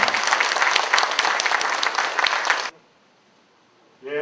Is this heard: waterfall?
no